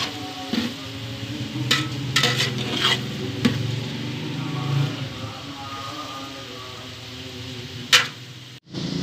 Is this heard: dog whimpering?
no